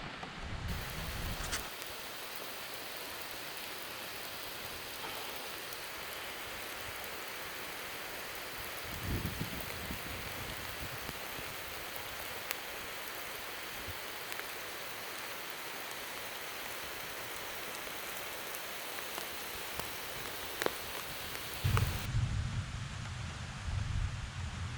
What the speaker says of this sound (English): We need rain so bad here in New Hampshire.